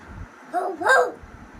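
A person imitates a dog barking, giving a couple of short voiced bark-like calls in a quiet room with no other sounds.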